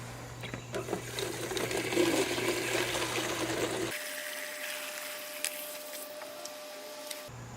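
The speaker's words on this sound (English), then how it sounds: "So let's fill it with some rainwater" Rainwater pours into a plastic milk jug, a steady, loud splashing rush under a mechanical hum that abruptly cuts out midway while the trickling fill continues alone.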